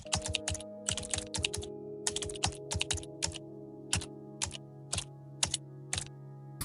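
Someone types on a computer keyboard in short clustered bursts of crisp key clicks with brief pauses, close up, over a faint steady hum, with no talking.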